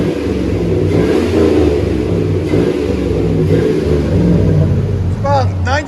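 A Chevy Silverado 5.3L V8 with a Flowmaster 44 series exhaust rumbles loudly up close through a series of revs, with a voice briefly heard over the engine near the end.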